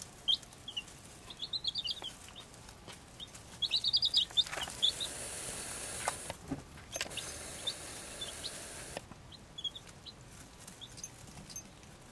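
Week-old baby chicks peep in high, rapid chirps in clustered bursts, close and fairly faint, with brief quieter gaps and a soft rustling background between calls.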